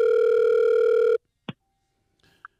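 A telephone dial tone hums steadily and loudly for about a second before cutting off, followed by a sharp click and a couple of faint, brief electronic blips.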